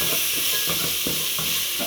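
Garlic sautés in a hot pan, a dense steady sizzle with rhythmic stirring scrapes, close and loud throughout.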